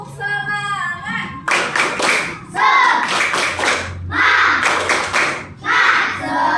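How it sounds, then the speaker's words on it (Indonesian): Children in an Indonesian primary school mathematics class perform a rhythmic clapping cheer, loud, close and in bursts of patterned claps with brief pauses between, after a teacher's sung or called prompt. "Coba tepuk semangat dulu ya. Tepuk semangat."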